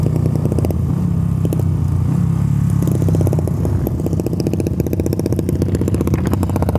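A motorcycle engine runs loud and close, rumbling steadily at first, then taking on a rapid rattling, clattering beat partway through, with a rough crackle over the whole stretch.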